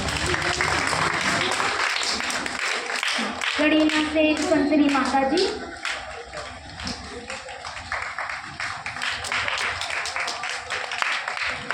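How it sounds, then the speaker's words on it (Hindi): Steady applause from an audience at a Brahma Kumaris stage felicitation, clapping continuing throughout while a voice speaks over it through a loudspeaker. "ताली बजाते रहेंगे।"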